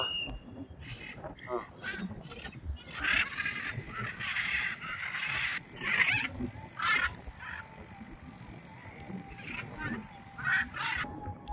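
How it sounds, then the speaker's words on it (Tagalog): Many geese honk and call together, a busy overlapping flock at close to moderate range on a dike. A few people talk faintly beneath the calls. "Ang daming ibon dito."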